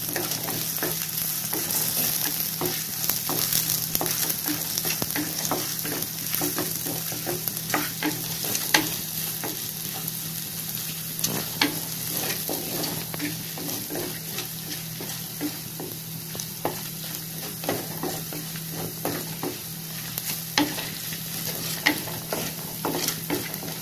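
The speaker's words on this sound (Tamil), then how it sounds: "இதோட 4 காஞ்ச மிளகாயும் போட்டு வதக்கலாம்" Four dried red chillies fry in a clay-pot style pan for a village fish curry, with a dense continuous sizzle and crackle and frequent light stirring scrapes, close up and with no talk.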